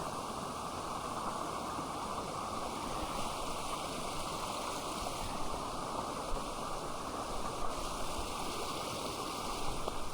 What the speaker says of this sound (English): Another waterfall over there.